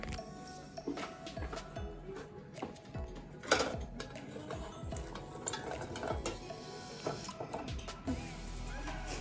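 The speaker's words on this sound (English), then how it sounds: "So now we're gonna start frying up the meat with the onions." Steady sizzling of ground meat and onions frying in a hot pan, with scraping and stirring, a spatula clattering against metal now and then, no one speaking.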